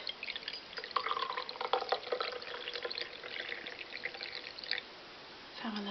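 Brewed pine needle tea is poured from a pot into a cup, a gentle trickling and splashing stream that runs for several seconds, pauses, then briefly resumes.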